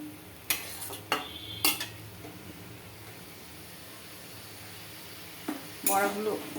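A few sharp clatters of potatoes dropped into a frying pan, with a faint sizzle underneath and a final burst of clinking near the end.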